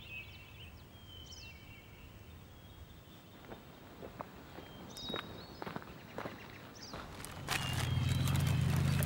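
Horses plod along with slow, uneven hoof clops over steady outdoor ambience, birds chirping faintly, and a low rumble rising at the end.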